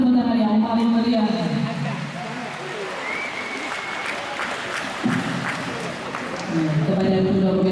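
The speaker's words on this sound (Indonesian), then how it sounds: "Boleh kita beri tepuk tangan yang paling meriah" Steady applause rises from a large audience at a university graduation ceremony at UIN Suska Riau. It carries on for several seconds, and an announcer's voice over the hall's speakers comes before and after it.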